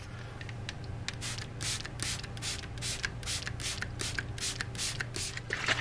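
A spray bottle mists wetting agent onto model railroad ground cover on an O-scale mountain layout, a close, rhythmic series of about a dozen short hissing spritzes in quick succession, with no talking.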